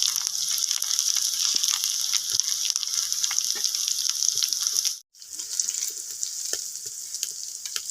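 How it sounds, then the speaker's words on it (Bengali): Red lentil fritters, Bengali-style masoor dal bora, fry in hot oil with a steady, close sizzle and some light scraping, broken by a brief near-silent gap before the frying resumes. "আর একটা করে এরকম উল্টে পাল্টে আমি ভেজে নেব"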